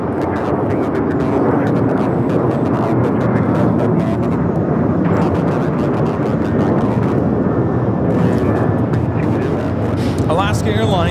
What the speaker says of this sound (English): Alaska Airlines 1334 taking off to Belize City on the 737 900ER